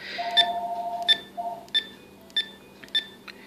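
Keypad beeps from an Azden AZ-61 radio being programmed, short electronic tones at irregular intervals, some in quick pairs, over a faint steady hum, close and clear with no talking.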